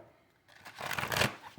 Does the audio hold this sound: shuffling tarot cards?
yes